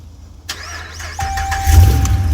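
A long-idle towed truck cranking briefly with the key and then catching, the engine firing up loud and close into a rough, rising idle with a faint electronic whine in the background.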